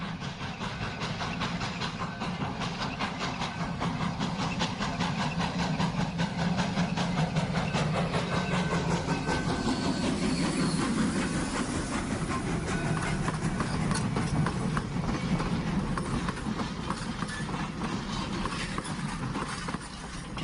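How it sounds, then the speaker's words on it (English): A steady, rumbling Virginia & Truckee Railroad train rolls through a blasted rock tunnel, rhythmic clattering wheels continuous and fairly loud throughout, with an enclosed, echoing quality. "The train, well, it passes through this original tunnel that was blasted open by Virginia City miners"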